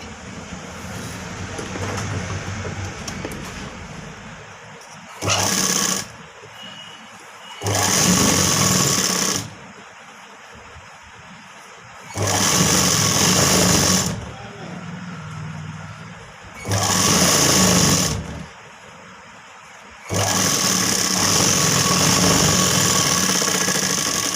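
Sewing machine stitching the front of a boat-neck blouse in several bursts of steady whirring and rattling, each a few seconds long, close and loud, with quieter room noise in the gaps.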